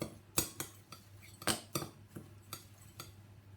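A spoon stirs crushed biscuits into melted spread in a bowl for a cheesecake base, producing a series of sharp, close clinks and scrapes at an irregular rhythm, with no talking.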